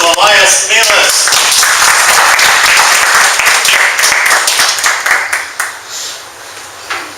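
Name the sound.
audience round of applause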